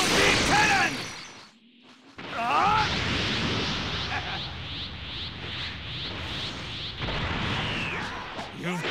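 A charged energy beam attack, the Special Beam Cannon in Dragon Ball Xenoverse 2, fires with a crackling, rising whoosh, then a sustained sizzling rush of synthetic effects with rapid pulsing streaks.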